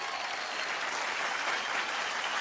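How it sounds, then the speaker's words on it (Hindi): Steady, dense applause from a comedy TV show's studio audience, sustained and even throughout with no voices standing out. "मैं चाहूंगा कि इन सब लेजेंड्स के लिए एक बार जोरदार तालियां।"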